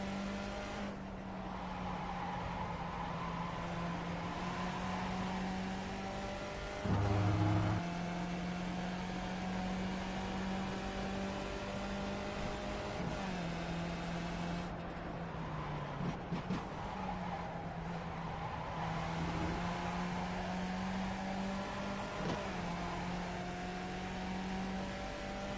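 Skip Barber race car in the iRacing sim at Okayama, its engine droning steadily with pitch rising and falling through shifts and corners, a brief dip at a hard braking point, continuous and close throughout.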